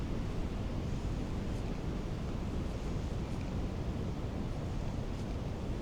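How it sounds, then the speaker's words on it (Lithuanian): Steady northwest wind gusting beside a small river in winter, a continuous loud broadband rush with no pauses and no voices. "Tas vėjas šiaurės vakarų lyg tai, vakarų."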